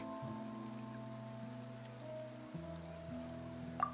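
Rain falls in the Genshin Impact video game, a soft steady patter beneath sustained game music tones, faint and continuous with no voices.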